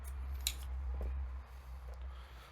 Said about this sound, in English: then cut any excess from the string